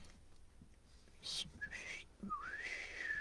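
A man whistles a few faint notes through his teeth: a short high chirp, then rising and falling tones over quiet background noise.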